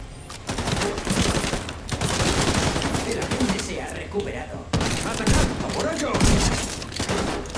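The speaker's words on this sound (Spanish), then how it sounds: "Me he cargado el amarillo de dos tiros, Tony." Rapid bursts of gunfire in The Division 2 crackle over a dense, loud mix of in-game effects, with brief pauses between volleys.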